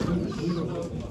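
Chickens clucking at a poultry auction in Ankara, close overlapping clucks and calls amid a crowded, noisy background.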